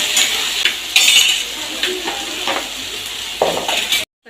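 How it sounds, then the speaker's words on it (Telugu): Tomato and coriander sizzle in a hot pan for ivy gourd pickle, a steady high hiss broken by several scraping stirs and light clinks of a utensil against the pan, close and fairly loud, cutting off abruptly at the end. "ఇప్పుడు టమాటా వేసుకుంటున్నామండి."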